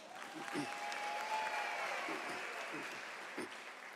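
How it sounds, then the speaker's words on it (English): A university audience at an autumn graduation ceremony in South Africa applauds with a sustained, even wash of clapping that carries through the whole stretch, with a few louder claps standing out. "Can we give an applause to that?"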